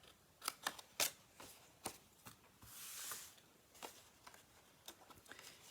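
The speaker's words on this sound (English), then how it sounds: "I'm going to snip this piece off as well." Scissors snip off a piece while a gilded autumn box is being crafted, a few sharp close cuts clustered early, then softer scattered clicks and a brief rustle of paper or card.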